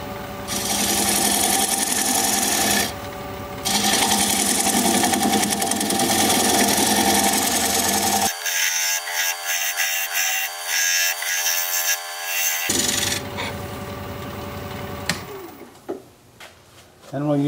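A wood lathe cuts a tenon on a blank of weeping birch, giving a steady, loud whirring scrape that breaks off into quieter machine hum before the cutting resumes, with no talking.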